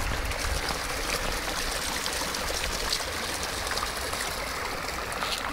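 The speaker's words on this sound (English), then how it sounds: "This is how the lake is fed, with all these small water streams flowing inside." Small water streams trickle and flow steadily into a lake near a waterfall, a continuous close, even rushing babble with no voices.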